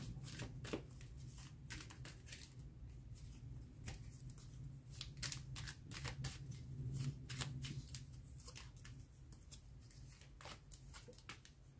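Tarot cards are shuffled over and over for a reading, a soft, close run of rapid riffling bursts that goes on with no talk.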